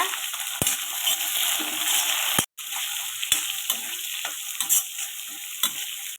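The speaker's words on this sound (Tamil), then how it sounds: "வெறும் சின்ன வெங்காயம், காஞ்ச மிளகாய், நெக்ஸ்ட்டு பச்சை மிளகாய் இது சேர்த்து நல்லா கோல்டன் ப்ரௌன் கலர் வரைக்கும் நல்லா ஃப்ரை பண்ணி எடுத்துக்கோங்க" Shallots with dried and green chillies frying in oil for a mutton head curry, a steady bright sizzle with occasional sharp clicks of a spoon against the pan, close and continuous, no talking.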